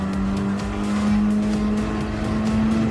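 Hyundai Elantra N racing engine in Gran Turismo 7, a loud steady drone holding near-constant revs as the car coasts through a time trial lap, with faint tire noise beneath and no talking.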